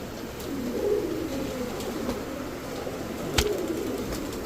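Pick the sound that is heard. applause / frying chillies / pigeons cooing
pigeons cooing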